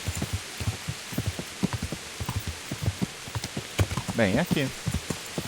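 Horse hooves in Kingdom Come: Deliverance clop at a steady trotting rhythm, close and distinct, with someone briefly speaking near the end.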